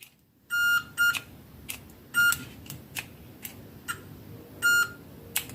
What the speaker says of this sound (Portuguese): Se ele estiver funcionando, ele vai dar o bipzinho lá